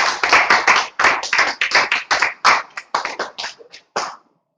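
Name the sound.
audience clapping to welcome a speaker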